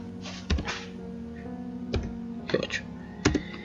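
Keys on a desktop computer keyboard are pressed while entering a simple spreadsheet formula, a few separate, fairly close clicks and thunks spaced over a few seconds against a low steady hum.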